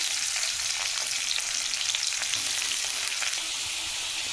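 Onions and mustard seeds frying in a pan, giving a dense, steady hiss of oil and crackle, close and fairly loud with no voices.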